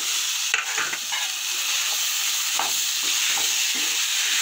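Chili powder sizzles steadily in hot oil in a pan while cooking a val bean bharta, a constant frying hiss with a few soft scrapes and clicks of stirring over it.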